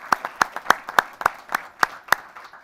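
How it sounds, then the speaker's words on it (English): A small group claps in a steady, sparse rhythm to thank retirees at a school board work session, each clap distinct and fairly close, with no voices over it. "So a round of applause, if that's okay,"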